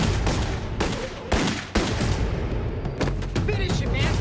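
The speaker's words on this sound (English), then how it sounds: "The younger one, Saida, pulled out a gun and began to fire at Sal" A burst of gunshots from a handgun in a dramatized shooting, several sharp booming reports in quick succession that stay loud and dense throughout.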